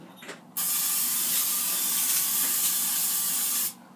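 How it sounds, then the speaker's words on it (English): Oil spray hisses steadily for about three seconds over catfish nuggets packed into a Power Air Fryer XL basket, close and alone, with a brief faint clatter before it starts. "Okay, I'm gonna spray this side."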